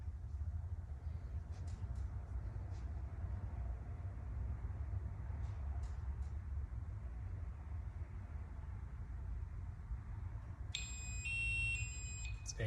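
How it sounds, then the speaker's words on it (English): Low steady rumble most of the time, then near the end a loud, piercing electronic alarm from a Honeywell SCBA PASS device begins, chirping in rapid stepped tones. "we're going to let this go through its alarm"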